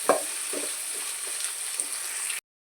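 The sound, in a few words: onions frying in a pan with salt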